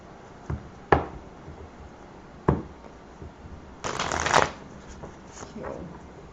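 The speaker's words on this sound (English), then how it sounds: "I'm feeling 2 more shuffles for you" Tarot cards shuffled by hand at close range, with a few sharp separate riffles followed by a longer, fuller flurry of card shuffling, all fairly quiet.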